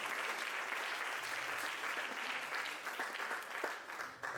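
Applause from an audience at a tenth-anniversary vermouth celebration, a dense, even patter of many hands that holds steady for a few seconds and is fairly quiet overall, with no voices over it.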